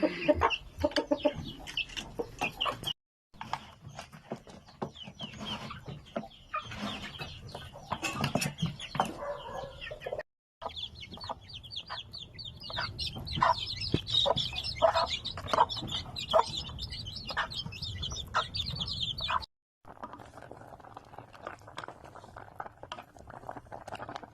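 Several chickens cluck and chatter nearby, with scratching and occasional wing flaps, continuing with brief breaks.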